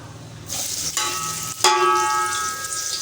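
Onions dropped into hot oil already holding cumin burst into a loud, close sizzle, with a second surge of hissing and a ringing metallic clank from the pan partway through.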